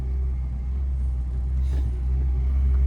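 A car in first gear eases forward on half clutch with a light touch of throttle in a narrow lane, giving a steady, low engine rumble that stays even and close without any sharp revving.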